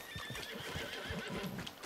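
A horse whinnies over the steady clip-clop of hooves in the video game Red Dead Redemption 2, with a constant background hum.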